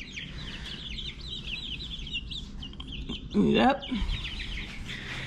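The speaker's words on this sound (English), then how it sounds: "Got our meaties here and all the chicks." Meat chickens and young chicks cluck and chirp softly in a garage, a steady low chatter of birds with one louder call near the end, and a person briefly speaks.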